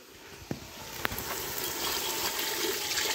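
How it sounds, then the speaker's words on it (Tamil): Water pours steadily into a cooking pot for plain rice biryani, a continuous rushing splash that grows slightly fuller, broken by a couple of sharp knocks near the start. "வாங்க தண்ணி ஆட் பண்ணிக்கலாம்."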